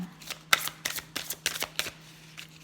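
A deck of oracle cards being shuffled by hand close up, a series of crisp riffling bursts at an uneven rhythm over a faint steady hum, with no voices.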